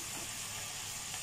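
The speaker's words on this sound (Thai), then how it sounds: "เอาลงไปผัดให้มันหอมก่อน" Pounded garlic, shallots, fingerroot and chili stir-fry in a pan, producing a brief, steady, fairly soft sizzle with no voices.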